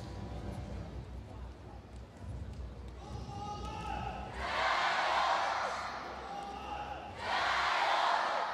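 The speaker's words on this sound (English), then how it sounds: "Crowd here in Xi'an getting behind their countrywoman." A crowd at a women's 68 kg wrestling gold-medal bout in Xi'an roars in two loud swells of cheering, one at mid-clip and another near the end, over a commentator's voice and a steady arena murmur.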